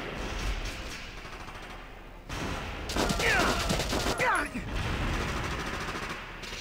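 Gunfire in the tactical game Valkyria Chronicles, a burst of rapid shots with sharp whizzing streaks partway through, heard under muffled game ambience and low background talk.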